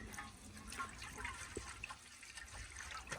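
Water spills and splashes out onto a surface in a steady, close, sloshing stream with a few brief splashy bursts, and no voices are heard.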